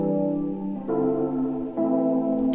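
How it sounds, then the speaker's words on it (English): Electric keys play sustained chords through a Valhalla reverb turned way up, giving a washed, distant tone. Three chord changes ring smoothly into one another with no voices. "So I turned the reverb way up, and that's just that same Valhalla reverb"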